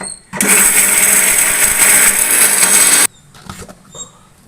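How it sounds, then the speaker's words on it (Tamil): A kitchen mixer grinder blends spices into a powder for brinjal curry, running loud and steady for about three seconds close by, then stopping abruptly, followed by faint handling noises. "இப்போ எல்லாத்தையும் ஒன்றா சேர்த்து அரைச்சிக்கலாம்"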